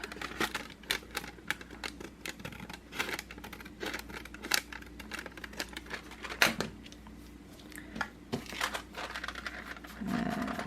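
Scissors trim the edge of inked paper glued into a journal, a quick run of crisp, close snips and light paper crinkles in a quiet room.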